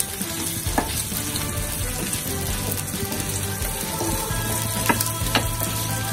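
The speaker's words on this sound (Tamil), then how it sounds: "ஒரு ஹை ஃப்ளேம்ல வச்சு ஒரு 1 or 2 minutes வதக்கிட்டு நம்ம எடுத்துக்கலாம்" Peanut powder chicken fries on a high flame with a steady, loud sizzle, broken by a few sharp spatula scrapes and stirs in the pan.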